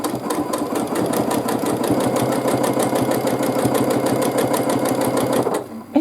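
A sewing machine running steadily during free-motion quilting of small flower-petal arches, a fast, even needle chatter held at constant loudness, close up, stopping abruptly near the end.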